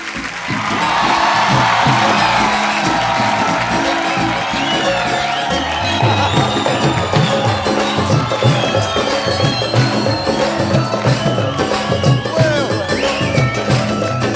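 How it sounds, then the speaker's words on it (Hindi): Studio audience on The Kapil Sharma Show breaking into strong applause and cheering for Maan Sahab, a swelling wall of clapping with whoops, loud and sustained, and music creeping in later. "जोरदार तालियां एक बार मान साहब के लिए"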